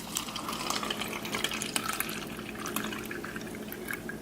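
Produce washed with Kangen water: a steady, close patter of running and splashing water with scattered drips, continuous and fairly quiet with no talking.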